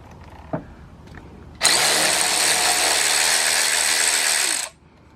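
Power ratchet buzzing for about three seconds while removing a bolt from the front end of a Honda Super Cub C125, close and loud after a couple of soft clicks.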